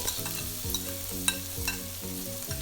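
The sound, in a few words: stir-frying vegetables for fried rice in a pan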